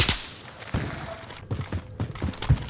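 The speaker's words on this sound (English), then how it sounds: "Taking fire" Gunfire in the video game Call of Duty Warzone Rebirth, a series of sharp bursts and scattered shots ringing through the game's mix with other in-game noise, fairly loud and close.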